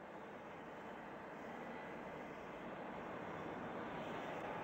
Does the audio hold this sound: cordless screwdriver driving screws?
no